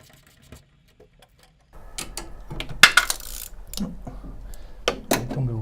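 A small hood fastener on a Peugeot 205 GTI drops into the engine bay, giving a sharp metallic clatter and a few bouncing clinks. It follows quiet ticks and softer rattling work noises close by.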